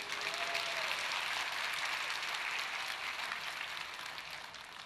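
A church congregation applauds during a Sunday sermon, giving a soft, even wash of many hands clapping that fades slightly toward the end.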